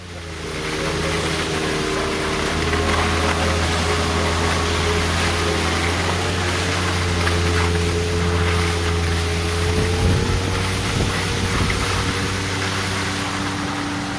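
A steady, loud snowmobile engine drone with strong low harmonic hum runs throughout as it rides along in the Krkonoše mountains, with some wind rush and no talking.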